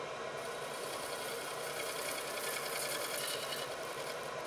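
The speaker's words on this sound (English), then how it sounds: "I am doing delicate pull cuts to even up the surface and eliminate tool marks." A gouge making delicate pull cuts on a natural edge crotch bowl spinning on a wood lathe, a faint continuous whirring hiss with a steady mechanical hum and no talk.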